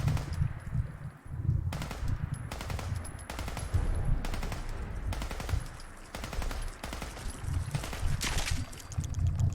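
Repeated bursts of automatic gunfire in Fallout 4, loud and close, with several rapid volleys separated by brief pauses over a steady low rumble.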